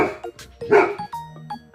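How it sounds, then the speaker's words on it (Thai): A neighbour's dog barks in a few short, sharp woofs that sound fairly close, with a faint voice and a soft chime mixed in. "ได้ยินเสียงข้างบ้านเห่า"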